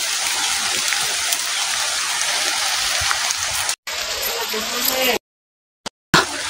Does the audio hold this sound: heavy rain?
yes